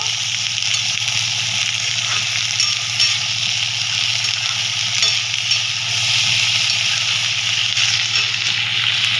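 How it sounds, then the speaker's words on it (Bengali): Chopped vegetables fry over browned onions in a pan, a steady loud sizzle with scraping stir strokes running throughout, close and alone with no talk. "এরকম ভালো করে আগে ভেজে নেবো।"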